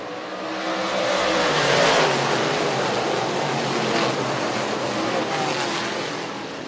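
DIRTcar 358-Modified race cars roar past on the dirt track at Can-Am Speedway, a loud engine drone swelling and fading as the field goes green, with no talk over it.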